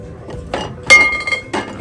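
Pressed glass pieces clink together in a few quick, bright taps as they are handled on a thrift store shelf, close and clear with no talking.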